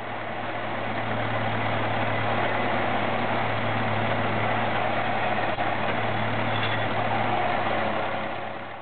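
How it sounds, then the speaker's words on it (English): A Wilford power shovel driven by a Fordson tractor digs in 1926 footage, giving a steady, droning engine hum with a low constant tone, loud and unbroken, with no voices. "This old video footage from 1926 shows Wilford Power Shovels with Fordson"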